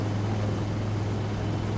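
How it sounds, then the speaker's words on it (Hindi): Helicopters fly over an army parade ground during an Army Day demonstration, heard as a steady, continuous low rotor and engine drone with no distinct rhythm, filling the whole stretch at moderate loudness. "वास्तविक में यहाँ पर दो हेलीकॉप्टर है परेड ग्राउंड के दाएं और बाएं।"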